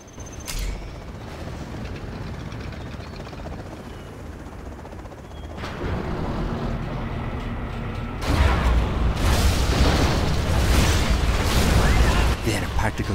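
A particle cannon is blown apart in the real-time strategy game Command and Conquer Generals Zero Hour, a scud storm strike. A sharp boom opens, and a louder, dense wave of blasts and rumbling debris builds in the second half under game voices.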